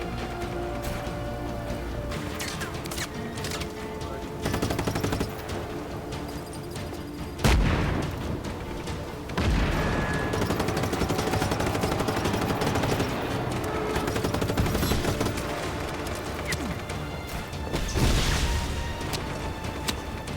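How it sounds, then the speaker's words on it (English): Gunfire in the action video game Just Cause 3, dense and continuous rattling shots with heavier booming bursts scattered through, loud and relentless across the whole stretch. "Stop shooting me."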